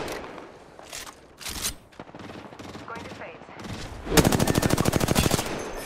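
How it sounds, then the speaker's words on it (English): Automatic gunfire in the video game Apex Legends, a rapid rattling burst of closely spaced shots near the end, preceded by scattered single shots and game effects. "Who the fuck is shooting at him?"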